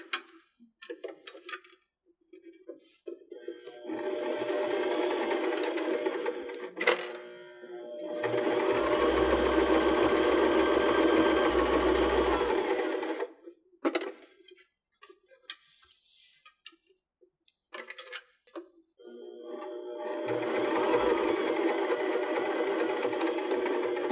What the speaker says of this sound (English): we'll just continue sewing to the other pin that we put in